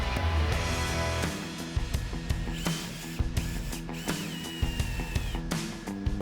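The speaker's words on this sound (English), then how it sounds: "drill the rest of your pilot holes" A power drill whirs close by in short bursts drilling pilot holes for a roof fan in a Sprinter van, its motor pitch rising and falling, with mechanical clicks and rattles between runs.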